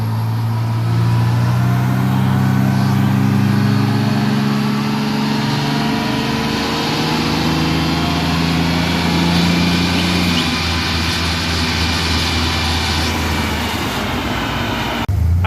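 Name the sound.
Chevrolet S10 with 4.3 engine, automatic, running on dyno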